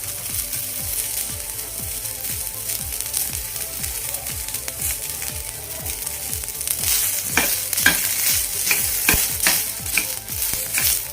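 Garlic, ginger and onion fry over a medium flame in a pan, with a continuous close sizzle and a rapid, regular run of scraping stirs that grows louder and sharper toward the end.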